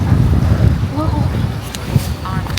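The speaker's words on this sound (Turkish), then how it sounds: "Hava soğuk ve güzel esiyor şu anda." Cold, gusty outdoor wind buffets the microphone with a low, continuous rumble, and faint voices briefly rise over it.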